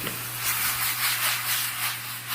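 Garlic hitting a hot pan of sautéed onions gives a steady, moderately loud sizzle with soft crackling that rises and falls slightly, with no voices over it.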